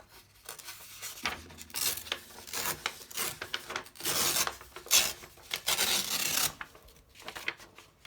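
Paper being torn by hand for a Bible journaling page, a series of close, dry rasping rips and rubbing strokes in irregular bursts with short pauses between them, no talking.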